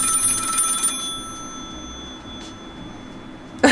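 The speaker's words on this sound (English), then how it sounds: "I'll just pick up the phone." A telephone rings in the video game Spin to Win, a bright electronic bell tone at the start that stops, then quiet room tone and a short new burst at the very end.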